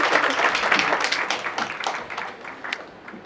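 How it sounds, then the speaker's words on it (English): A conference audience at a talk on patient safety and sustainability gives a round of applause, dense clapping that starts strong and thins out toward the end, with a few sharper individual claps near the close. "Can I have a round of applause,"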